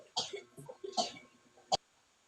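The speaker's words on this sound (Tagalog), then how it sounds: "sino yung umuubo?" A single sharp cough cuts in near the end, following a few soft murmured words at low volume.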